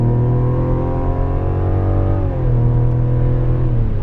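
A 2024 Mazda CX-90 engine accelerating to highway speed, heard from inside the cabin as a steady, moderately loud drone with rising harmonics that swell smoothly over several seconds.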